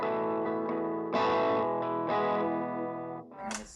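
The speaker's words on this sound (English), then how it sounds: "this is what that sounds like through the bridge pickup." Electric guitar on the bridge pickup through an ambient wah pedal with fully overdriven signal, distorted sustained chords that swell and sweep in tone, a few strums ringing out, no voices.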